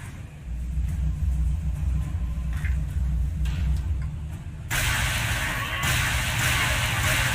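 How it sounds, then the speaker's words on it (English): A thunder attack by Thor in the Marvel Dimension of Heroes AR game, heard as a deep sustained rumble that swells into a louder, brighter crash midway and keeps roaring. "Thor, bring the thunder."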